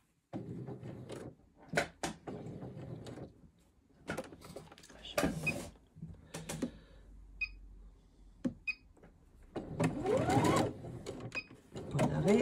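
Short bursts of a sewing machine straight-stitching along an existing line on men's underwear, with pauses, clicks and handling noises between runs, up close and fairly quiet.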